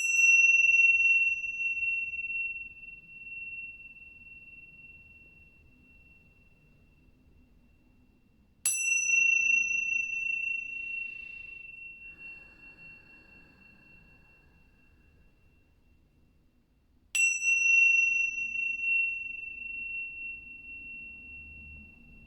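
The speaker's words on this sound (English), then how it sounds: "the first chime that I did on the Tibetan symbols" Tibetan cymbals struck three times at even intervals, each a bright, clear ring that sustains and slowly fades, loud and close in an otherwise quiet room.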